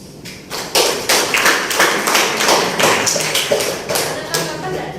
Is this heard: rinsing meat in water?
no